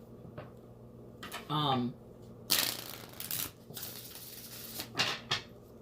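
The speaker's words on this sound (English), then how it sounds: "let's just shuffle up these cards and talk." A deck of cards is shuffled close up, with quick riffling bursts and crisp shuffling rustles that come in several loud waves over about six seconds.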